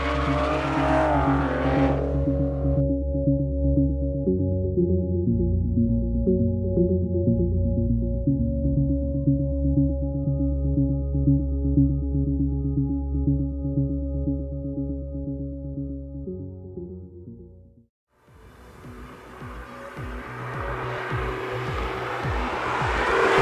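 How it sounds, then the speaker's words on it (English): A 2014 Aston Martin Vanquish V12 engine revs hard out of a corner, its loud tone rising in steps through the gears, cutting off briefly, then roaring back in a rougher burst. "exiting out of a corner and just listening to that V12 sing"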